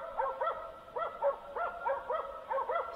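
Hunting dogs bark repeatedly at a distance during a deer chase in open country, a rapid and fairly regular run of yelps that carries on without pause.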